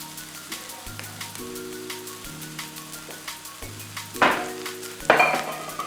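Boiled rice tipped into hot oil in a pan for chicken fried rice, crackling and sizzling steadily while being stirred, with a few louder scraping bursts of the spatula near the end.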